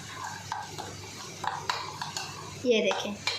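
A spoon scrapes and clinks against a bowl while tikka masala is stirred into softened onions, giving a series of irregular short scraping and tapping strokes at close range, with a louder clatter near the end.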